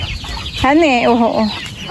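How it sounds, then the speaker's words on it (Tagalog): A chicken lets out a loud, drawn-out cluck close by at a fishpond, with quieter clucking and rustling from other chickens around it. "Biglang dami po ng mga manok dito sa palaisdaan."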